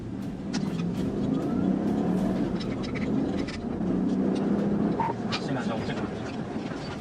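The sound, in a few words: Nissan Armada driving at high speed on bare rims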